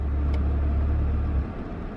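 A Maserati Ghibli engine shuts off through auto start-stop at a stop sign, its low steady hum cutting out after about a second and a half and leaving quiet cabin noise.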